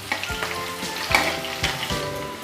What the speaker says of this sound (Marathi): कांदेही आपल्याला चांगले परतवून घ्यायचे